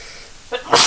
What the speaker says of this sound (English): Sneeze. Excuse me.